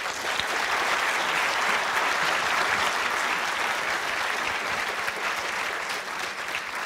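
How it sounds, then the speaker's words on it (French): A theatre audience greets writer David Foenkinos with sustained, full applause, steady and evenly loud throughout with no talking over it. "Merci d'applaudir David Fuenquinos."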